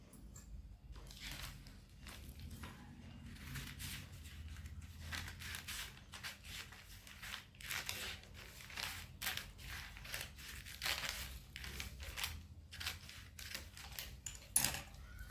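Scissors cutting through folded paper while making a cloth banana leaf, a soft, steady run of close snipping and rustling that continues throughout at low volume.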